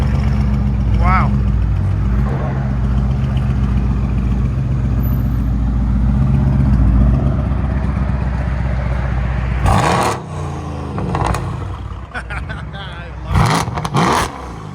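A Mercedes C63s AMG with a 4.0L bi-turbo V8, about 850hp and straight pipes, drones loudly at steady high revs, then cuts off and gives a few short sharp blips near the end, with people talking.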